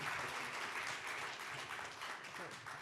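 Audience applause at a Berlinale independent juries award ceremony, a steady, dense clapping that fills the room from start to finish, fairly close and loud.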